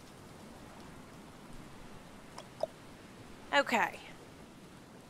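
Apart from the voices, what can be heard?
rain in the video game Stranded Deep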